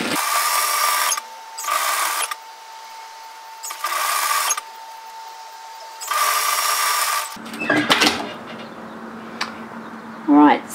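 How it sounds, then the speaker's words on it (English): A sewing machine stitches along the overlock line to secure a hem seam on a woven-fabric cape, running in four loud, even bursts with pauses between, followed by softer fabric handling and mechanical clicks. "what I'm going to do is just stitch through the overlocking line to secure that"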